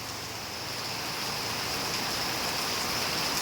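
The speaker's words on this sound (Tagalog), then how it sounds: "Grabe ang lakas ng ulan. Baha na." Heavy rain pours steadily and loudly during a flood in a Philippine province, a dense, even hiss of drops hitting surfaces that holds without a break and builds slightly toward the end, with no voices.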